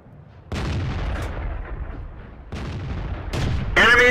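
Tank cannon fire in the video game World of Tanks, two heavy booming shots with rumbling decay a couple of seconds apart, then a further burst and a short bright game alert at the end; no talking.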